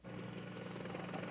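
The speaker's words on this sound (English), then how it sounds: "Apache attack helicopters swarmed forward, attacking Iraqi tank formations with their precision-guided Hellfire missiles." Apache attack helicopters in flight, a steady rhythmic rotor thump and engine drone, moderately loud and continuous with no voices.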